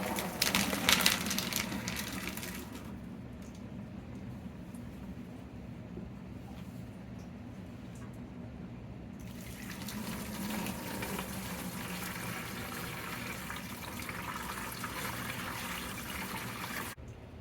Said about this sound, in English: So we'll go ahead and dump these out and we'll rinse them off a little bit.